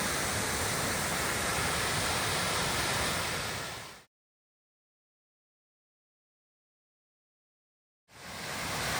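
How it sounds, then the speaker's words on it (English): A waterfall at Ball's Falls gives a steady broadband roar of rushing water, close and continuous, cut off by a few seconds of total silence before it resumes. "this is the other waterfall."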